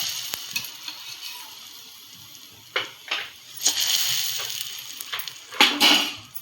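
Pakoras dropping into hot kadhi, with a steady low sizzle and several sharp splashing bursts as pieces go in, growing busier toward the end; close and fairly quiet, no voices.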